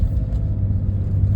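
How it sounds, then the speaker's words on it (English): A small pickup truck rolls by close, its engine a steady low rumble that fills the brief moment without any voices over it. "This guy just tried to run over me because he thinks he owns the road in some little bitty truck."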